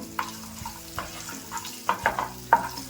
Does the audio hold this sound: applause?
no